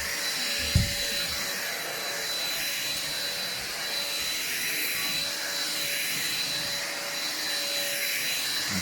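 An Ambiano vacuum cleaner from Aldi runs with a steady, whining motor roar close by, holding constant throughout after a brief bump near the start.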